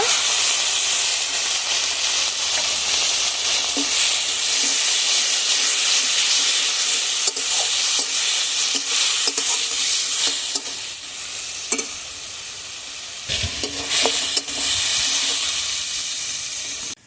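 Ground tomato paste sizzles steadily in a hot pan, a loud, close, broadband hiss broken by clacking stirs and scrapes that grow busier toward the end.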